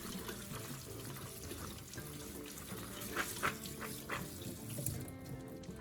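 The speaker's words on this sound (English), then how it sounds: "Quickly rinse the chickpeas once more under running water" Chickpeas rinsed under a running kitchen tap, a steady close stream of water splashing into a sink with brief louder spatters near the end, no talk.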